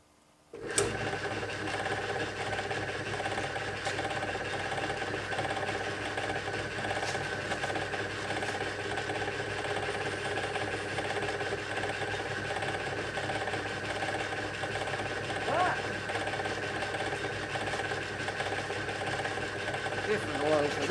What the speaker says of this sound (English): let's get this hole drilled and we'll see how we go